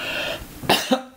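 A quiet moment, then two or three sharp coughs close up, one following another in quick succession.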